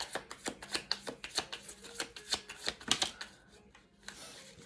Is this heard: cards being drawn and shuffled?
yes